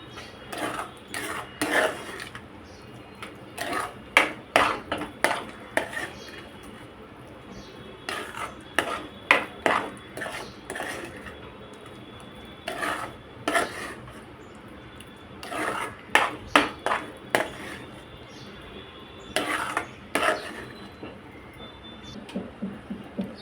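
Semolina sheera being stirred with sugar in a pan, with repeated clinking scrapes of a spoon against the pan in irregular bursts, near and fairly loud, with no talking.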